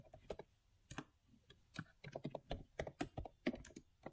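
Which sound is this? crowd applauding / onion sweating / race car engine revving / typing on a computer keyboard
typing on a computer keyboard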